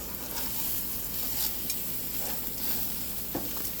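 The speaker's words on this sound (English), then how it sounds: "Everything is sizzling really nice over there" Pork chops sizzle over a barbecue grill at a family camping cookout, a steady close-up crackle and hiss with faint scraping under it and no talk.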